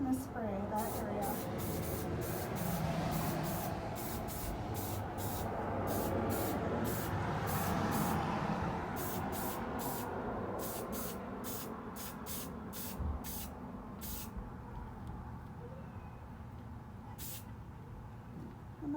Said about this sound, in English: So now I'm just going to spray that area.